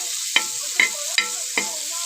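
Bangda mackerel frying in oil makes a constant close sizzling hiss, broken by four evenly spaced scrapes of a spatula against the pan.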